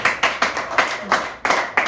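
Game show studio audience clapping in quick uneven bursts of applause, close and lively, with a few voices mixed in.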